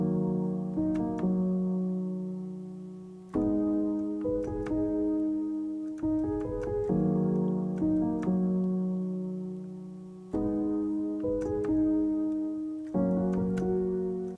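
Trap melody built with Scaler 2 in Studio One, following a chord progression: plucked, decaying synth notes in repeating phrases with chord hits every couple of seconds, clean and alone without talking.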